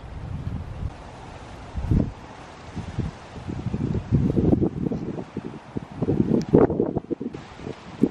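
Wind buffeting the microphone in gusty bursts on a boat, rumbling loudly over a steady background whoosh, with no voices.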